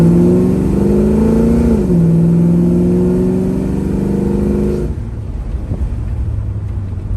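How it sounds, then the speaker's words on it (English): A 1970 Chevrolet Chevelle with a TH400 automatic transmission accelerates hard, loud and close. The engine drone climbs, dips at a gear change, climbs again, then drops back to a lower rumble. "Through all the gears, great. That's that TH400 transmission."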